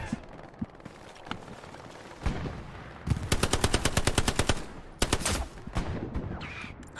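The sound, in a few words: machine gun fire in the video game Hell Let Loose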